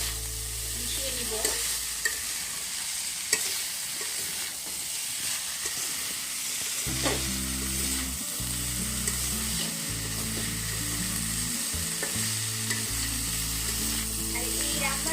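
Chela shutki dried fish and kochur loti taro stolons stirred together in a frying pan, with a steady sizzle under repeated scraping strokes of the spoon. A second, lower hum runs through the back half.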